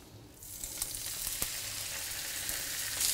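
Cardoons sautéing in a frying pan give a steady, close hiss of sizzling with small crackles and the occasional stir, alone at moderate level.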